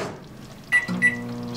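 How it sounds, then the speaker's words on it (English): A microwave oven runs with a steady low hum while warming a serving of spaghetti, quiet and close, with two short high beeps partway through. "I'm just gonna microwave this"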